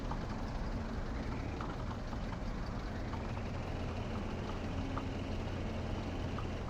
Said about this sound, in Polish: Ciągnik jeszcze do tyłu przestawimy